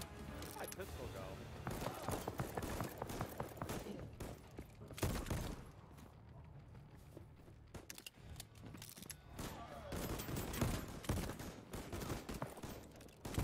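Pistol gunfire in the Voidtrain video game, with repeated sharp shots and mechanical clacks in clustered bursts, fairly quiet overall, with a voice talking at times over the action.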